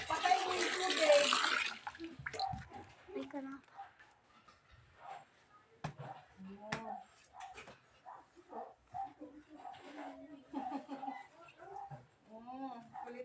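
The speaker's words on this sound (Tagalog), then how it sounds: "Patayin mo yung tubig." Tap water running into a basin or tub, a loud hissing gush for about two seconds that then stops, followed by people talking and a dog's occasional sounds.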